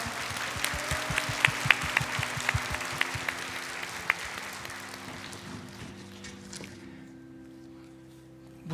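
A church congregation claps for award winners at a Sunday service, steady applause under an organ-like drone that thins and fades out over the final seconds.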